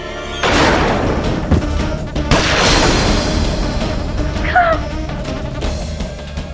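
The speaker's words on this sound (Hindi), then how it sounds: "बस गोली चलाओ, गोली" Gunfire in a tense scene from the Hindi courtroom thriller series Adaalat: a loud booming shot with a long reverberant tail, followed by a second heavy blast, close and harsh with brief sharp noises trailing after.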